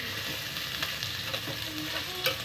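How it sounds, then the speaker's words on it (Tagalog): Pancit ingredients stirred in a hot pan, a continuous close sizzle with soft intermittent scrapes of a utensil, fairly even loudness throughout. "Haluin mo yung sahog natin"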